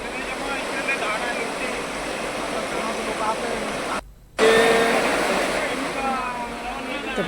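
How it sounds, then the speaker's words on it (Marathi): Rushing water of a river in flood after heavy rain near Zodga village on the Karanja–Dhanaj road, a broad continuous roar close by with a brief dropout partway through. "पावसामुळे कारंजा ते धनज मार्गावरती झोडगा गावाजवळ नदीला पूर आलाय"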